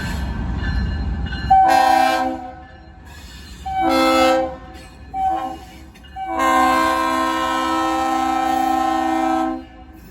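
Locomotive horn blasts in several long bursts over a low engine rumble as a train pulls out fast, the final horn note held for about three seconds; close and loud, no talk.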